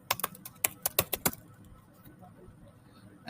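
Quick bursts of computer keyboard typing during a search in a Shopify store admin, several sharp clicks in the first second and a half, then a quiet room.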